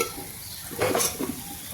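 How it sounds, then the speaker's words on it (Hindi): A short burst of sizzling as cumin and red chilli hit hot oil, crackling briefly and then settling to a low hiss. "एक तड़का लगा दिया हमने।"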